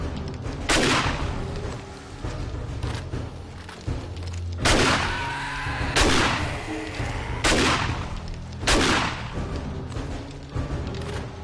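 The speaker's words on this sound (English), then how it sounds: "I never really thought we would have a shotgun" Shotgun blasts in 7 Days to Die on PS5: five loud, sharp booms spaced about two seconds apart, each with a short rumbling tail, over low background game noise.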